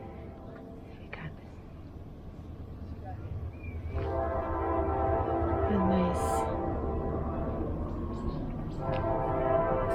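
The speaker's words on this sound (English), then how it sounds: "there's a train going right by." A train passes nearby, a low rumbling roll that builds and stays loud, with a short horn blast and faint talk from a person close by.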